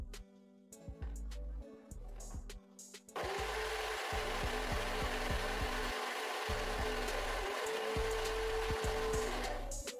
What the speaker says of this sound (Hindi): स्वाद के अनुसार इसमें अब चीनी को डाल दें और अब अपने को अगेन इसको थोड़ी देर के लिए पीसना है,